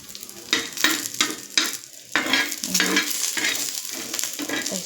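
Bay leaves and whole spices are dry-roasted in a pan, with repeated bursts of scraping as a spatula stirs them and a soft sizzle underneath, close and fairly loud.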